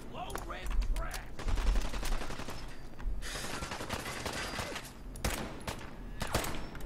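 Rapid bursts of gunfire from the video game Fallout 4, clusters of sharp cracks and automatic fire rattling in waves with brief lulls, while players talk and shout over the shooting.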